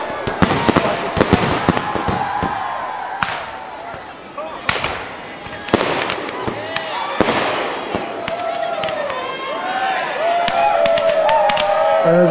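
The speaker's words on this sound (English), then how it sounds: "And as you can see, the fireworks," Fireworks crackle and pop in rapid bursts at an outdoor gathering, sharp bangs scattered over sustained crackling, with people talking and calling out in between.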